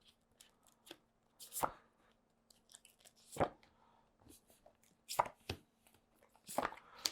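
Cards pulled one after another from a deck, giving sharp, crisp snapping flicks at irregular intervals, each a quick close slap followed by faint rustling, over a soft steady hum and no speech.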